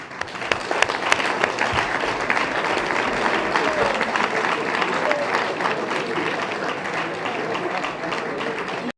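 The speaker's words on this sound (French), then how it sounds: "je voudrais demander simplement à tout le monde d'applaudir" Sustained applause from an audience at a seminar closing ceremony in Benin, steady dense clapping running throughout, with some voices mixed into the crowd noise.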